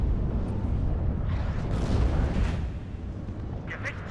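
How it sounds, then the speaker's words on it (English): Enemy artillery fire in the Cold War strategy game WARNO booms and rumbles in a continuous low roar of explosions that eases slightly near the end, with faint scattered crackle on top. "Enemy artillery."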